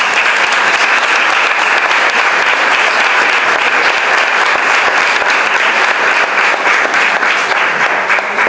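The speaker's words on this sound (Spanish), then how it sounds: "Un fuerte aplauso." A conference audience gives a speaker a dense, sustained round of applause, loud and steady throughout with no voices over it.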